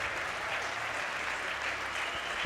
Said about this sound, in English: You can hear the crowd really appreciating that.